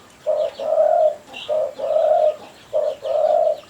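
A pet spotted dove gives three close, clear cooing phrases in a row, each a short note followed by a longer rolling coo, with no other sounds around it.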